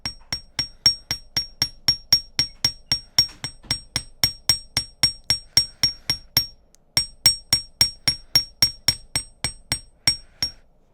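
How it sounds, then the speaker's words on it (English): A small hammer strikes a wire loop on a steel bench block while making a crystal necklace, about thirty crisp, evenly spaced metallic taps close by, with one brief pause partway through. "then you keep the loop over here and then kind of hammer it."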